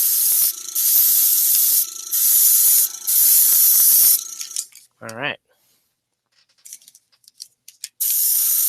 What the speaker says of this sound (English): we're also going to spray this down